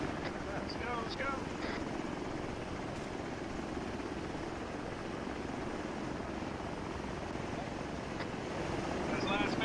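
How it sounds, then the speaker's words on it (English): A military helicopter in a video game produces a steady, dense rotor and engine roar. It is loud and continuous throughout, with faint voices under it. "Dagger, get straight into the chopper."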